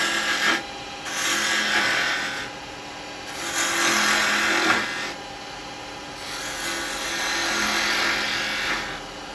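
A spindle gouge cutting wood on a lathe, giving repeated rasping shaving passes that swell and fade in a steady rhythm over a constant high motor whine.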